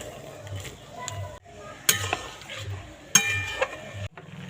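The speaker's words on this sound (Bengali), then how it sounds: "চিনির শিরার ভিতরে দিয়ে এইভাবে একটু নেড়ে চেড়ে নিতে হবে" Papaya pieces are stirred into sugar syrup in a pan, with spoon clinks and scrapes against the metal at close range and a few sharper knocks over a soft bubbling sizzle.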